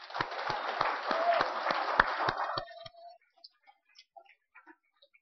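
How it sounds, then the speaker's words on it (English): Church congregation applauding Tammy, a burst of clapping with a few distinct sharp claps that fades out after about two and a half seconds, leaving faint scattered sounds. "Would you give Tammy a round of applause?"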